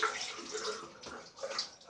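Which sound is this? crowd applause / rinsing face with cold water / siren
rinsing face with cold water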